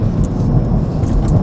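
Exhaust of a 2025 Hyundai i30N hot hatch, a deep continuous rumble heard from behind the car, heavy and steady with no one talking.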